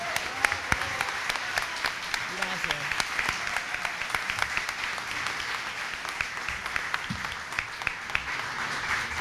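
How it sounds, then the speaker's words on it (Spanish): Sustained applause from an audience at a book presentation welcomes the author, a singer-songwriter, with steady dense clapping throughout and a brief word of thanks spoken over it. "Palmas para ella."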